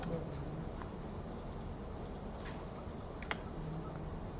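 Sparse computer keyboard key presses while modelling a two-storey house roof in 3D software, a few faint, isolated clicks against a steady low room hiss.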